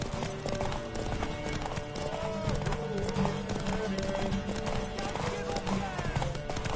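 Horse hooves clip-clop in a Witcher 3 game scene, a steady trotting rhythm under busy game music and effects, with voices speaking over it.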